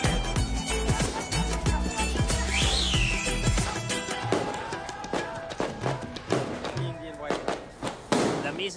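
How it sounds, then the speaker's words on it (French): Fireworks crackle and pop through a busy outdoor scene in India, with a whistling rocket rising early on and sharp bangs scattered over steady crowd chatter. "Il paraît qu'il faut rester à 50 mètres des feux d'artifice."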